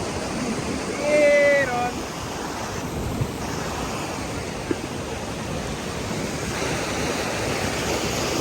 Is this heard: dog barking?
no